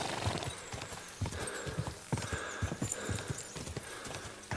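Horse hooves clip-clopping in a video game, a quick, steady run of close, distinct hoof strikes lasting several seconds with no voices over them.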